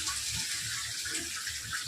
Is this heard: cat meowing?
no